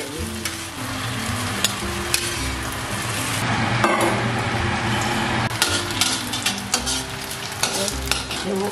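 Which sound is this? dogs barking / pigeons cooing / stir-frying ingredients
stir-frying ingredients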